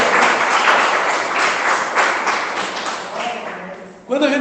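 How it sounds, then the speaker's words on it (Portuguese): A church congregation claps together during a sermon, a dense, loud wash of applause that runs for several seconds before fading, with a voice cutting in at the end. "dá uma salva de palmas para Jesus"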